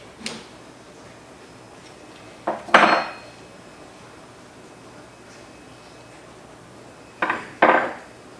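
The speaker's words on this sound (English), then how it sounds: "Now use your 13/16 and 5/8 open end wrench to disconnect" An open-end wrench clinks against a metal cable connection as it is loosened, two clusters of sharp metallic clanks and ticks separated by quiet, close by with no talking.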